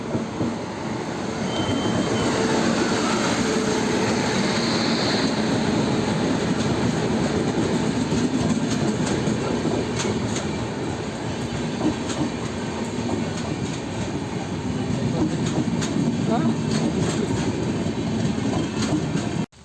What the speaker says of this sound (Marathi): मित्रांनो ट्रेन आली बघा.